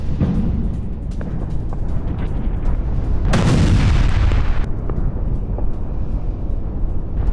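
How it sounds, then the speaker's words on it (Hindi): Explosions from bombing in Tehran rumble as a continuous heavy, booming roar, swelling into a louder, sharper blast midway before settling back into a dull, distant-sounding rumble, with no voices. "तेहरान में कई जगह सुने गए धमाके, यूएस इजराइल की बमबारी से विस्फोट।"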